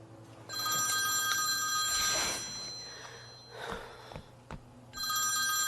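A telephone bell rings in a French-dubbed drama scene, loud and close in two bursts separated by a quieter pause, with no voices over it.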